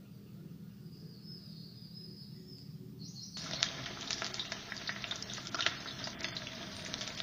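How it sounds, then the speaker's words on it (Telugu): Thinly sliced onion pieces hit hot oil at about three and a half seconds, bursting into a loud, steady crackling sizzle that continues to the end, with a faint hum underneath before they go in. "దానిలోనే సన్నగా కోసిపెట్టుకున్న ఉల్లిగడ్డ ముక్కల్ని వేసేయండి."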